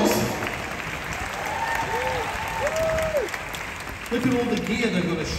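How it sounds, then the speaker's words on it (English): An audience at a cruise ship show applauds the stage crew, steady clapping with a voice speaking over it throughout. "How about a round of applause for our what we call black shirts?"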